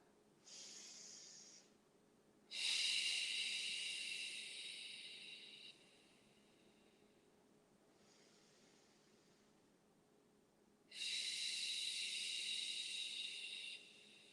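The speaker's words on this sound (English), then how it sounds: "And breathe 3 breaths here" Slow, deep yoga breathing comes from close by and is quiet. Several long, airy inhales and exhales are spaced by calm pauses, and no one speaks.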